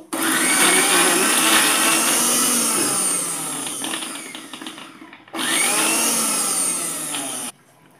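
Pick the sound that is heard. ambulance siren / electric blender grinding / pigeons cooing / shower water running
electric blender grinding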